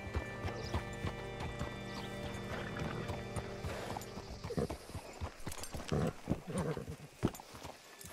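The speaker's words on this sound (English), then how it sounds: "Hitch your horse up here." Horse hooves clip-clop in Red Dead Redemption 2 as a rider comes in to hitch up, the close, uneven steps growing busier and louder toward the end over a soft ambient background, with a faint snort or whinny.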